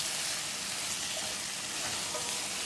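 Onions and okra frying in a pan give off a steady, dense, close sizzle that holds even and unbroken throughout, with no voices over it.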